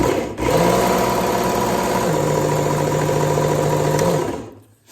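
Belt grinder with a fine X22 belt, around 1,000 to 1,200 grit, refining a burr on a steel knife edge: a loud steady motor whine with grinding hiss for about four seconds, then spinning down to quiet.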